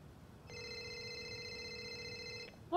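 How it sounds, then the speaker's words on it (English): A phone rings inside the GTA role-play game, a steady electronic ringtone sounding continuously for about two seconds at moderate level, then cut off as a voice begins speaking. "I don't have my phone right now. I don't know why it's ringing."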